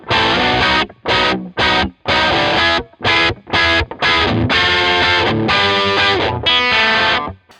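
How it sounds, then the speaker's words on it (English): Distorted electric guitar plays chopped chords in short bursts with brief silences, then rings out in sustained overdriven strums, loud and close. "So I'm going to switch back over to the overdrive distortion for this"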